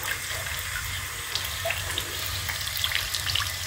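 Water runs steadily from a tap in a continuous, even hiss of flowing stream, close and alone with no other sounds.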